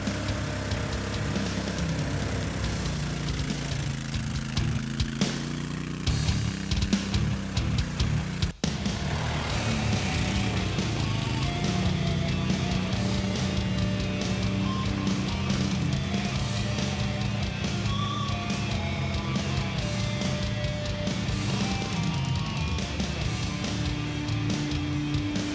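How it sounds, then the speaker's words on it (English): A classic Hunter quad-type ATV engine runs steadily while the vehicle crawls over tough off-road obstacles, a loud continuous rumble with slight shifts in pitch throughout. "This one is a classic quad-type ATV, which is called Hunter."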